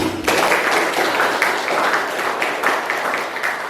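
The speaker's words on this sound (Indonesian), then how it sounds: "Boleh tepuk tangan" A classroom of students claps during a lesson, dense steady applause that starts abruptly and carries on evenly for several seconds at close range, with no talk over it.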